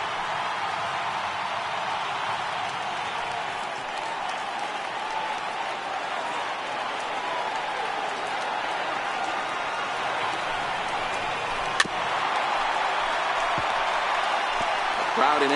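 A crowd of over 37,000 in a baseball video game rises to its feet at an Astros–Mariners contest, a broad, steady stadium roar sustained throughout, with one sharp click near the end.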